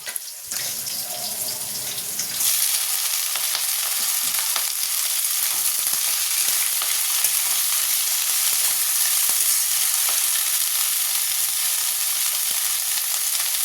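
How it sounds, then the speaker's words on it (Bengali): Garlic, five-spice seeds, dry chillies and onion fry in a pan. A quiet start jumps into a loud, continuous sizzling hiss with faint crackles, and nobody talks over it. "রসুন, পাঁচফোড়ন, শুকনো লঙ্কা, পেঁয়াজ, এটা ভালো করে একটু ভাজা ভাজা করে নেব।"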